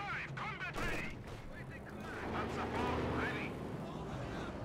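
Katyusha rocket artillery fires in the Company of Heroes 2 battle game, a burst of whooshing rocket launches and rumbling blasts under busy battle noise, with a commentator talking over it.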